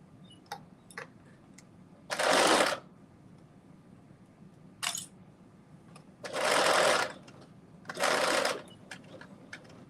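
Sewing machine stitching skirt fabric in short loud bursts, three motor runs of about a second each separated by quiet gaps with light ticks and clicks of handling the cloth.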